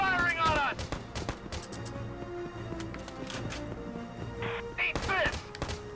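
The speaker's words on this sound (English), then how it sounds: "They're firing on us!" Enemy gunfire in the video game Valkyria Chronicles 4. Sharp shots crack repeatedly at moderate distance over low game background noise, with voices speaking briefly.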